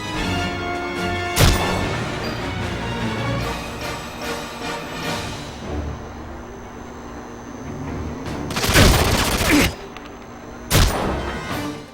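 Gunfire and explosions in a shooter game set in a St. Petersburg station, a few sharp loud blasts and bursts standing out over steady music and battle noise.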